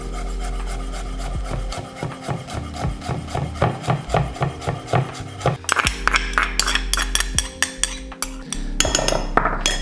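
Vietnamese coriander and mint leaves shredded with a knife on a wooden board: quick, rhythmic rasping strokes and taps, close and fairly loud, with the pace quickening toward the end.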